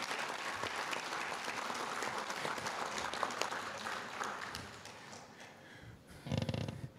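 Sustained audience applause at a men's conference, dense clapping from a crowd filling the room, fading toward the end before a brief louder burst close by.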